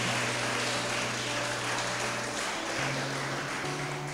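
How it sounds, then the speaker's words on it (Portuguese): A church congregation applauds during worship, a steady, dense wash of clapping that lasts throughout over sustained keyboard or organ tones. "aplauda ao Senhor bem forte"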